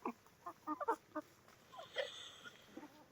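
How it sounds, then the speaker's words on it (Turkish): Chickens let out of the coop onto fresh grass after rain give soft, scattered clucks and short calls, a few birds fairly close in a quiet outdoor setting. "Tavukları dışarıya saldım"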